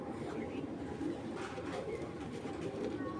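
Top-quality racing pigeon cooing softly in a loft, a steady low murmur of coos running the whole time, with faint voices in the background.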